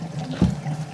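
Draining pond water pours out through a pipe while a pump runs as a neglected 10,000-gallon pond is emptied, giving a steady low gushing and trickling wash with one brief louder surge in the middle.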